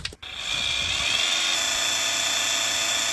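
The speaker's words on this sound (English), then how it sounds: "So we've drilled a little hole in there." A high-pitched small drill whines steadily as it bores a little hole into a lock, close and loud after a brief click at the start, with no talk.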